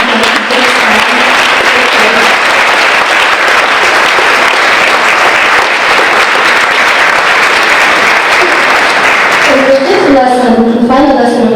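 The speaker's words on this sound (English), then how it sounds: "I would like to give them a round of applause" An audience applauds a keynote speaker with steady, sustained clapping that fills the room at full volume for several seconds, then fades as a voice resumes.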